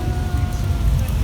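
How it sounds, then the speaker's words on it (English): Rain pours onto a moving car and in through its open window during a hurricane, a steady close hiss with low rumbling road and wind noise, no speech over it. "my window's down, so it's raining inside"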